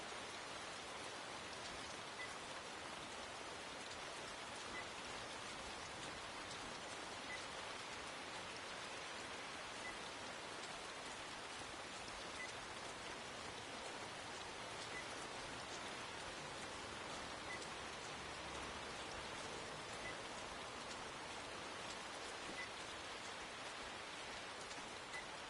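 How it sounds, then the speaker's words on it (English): Steady rain falls in a video game set at East Maddon Park in Northern England, a dense, even hiss of drops on surfaces running unbroken throughout, close and fairly quiet, with no voices over it. "Oh, stop raining on my GPS."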